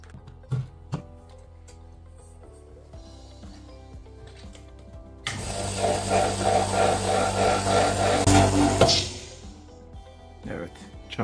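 A Kobb KBK25S oil-free, 1.7 horsepower, 1300 watt air compressor with a 24-litre tank starts abruptly and runs with a loud, steady motor buzz for about four seconds, then stops, preceded by quiet clicks and handling noises.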